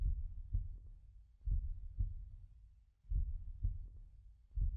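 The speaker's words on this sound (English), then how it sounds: "Is that a heartbeat I hear?" Heavy, close heartbeats pound in a psychological horror game, lub-dub pairs recurring about every second and a half, low and muffled, over a faint drone with nobody talking.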